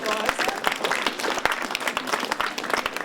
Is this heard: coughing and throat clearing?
no